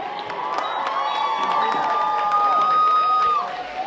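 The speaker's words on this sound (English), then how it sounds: "let's give a round of applause to both the Grafton High and Uxbridge High cheerleaders" At a high school football game between Grafton High and Uxbridge High, a crowd applauds and cheers for the cheerleaders, a sustained wash of clapping and shouts with a few high whistle-like tones over it.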